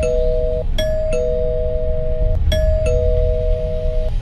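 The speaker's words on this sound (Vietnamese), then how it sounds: "Chuông cửa vẫn reo lên inh ỏi" An electronic doorbell rings over and over, its two-tone chime repeating in quick succession, loud and insistent above a low rumbling background.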